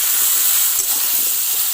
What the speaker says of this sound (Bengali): বেশি জাল দেবো না, অল্প জলে একটু ভাজা ভাজা করে ভেজে নেব।